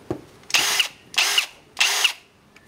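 Milwaukee M18 FPD Gen2 cordless drill run in three short, loud bursts of about a quarter second each, evenly spaced and alone.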